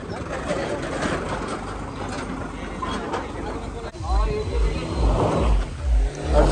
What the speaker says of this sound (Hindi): भाई देखो ट्रैक्टर आगे चढ़ जाएगा